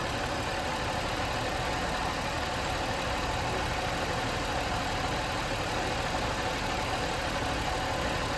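A car engine idles steadily and evenly with a vacuum line unplugged, a constant low rumble with a faint mechanical hum and no other sounds.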